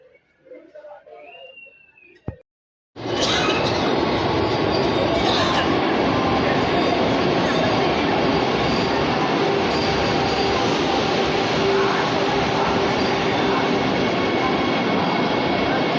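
A train roars past up close, a sudden loud onset after a quieter stretch with a brief voice, then a sustained heavy rumble and rattling of wagons with faint wheel squeal, steady to the end.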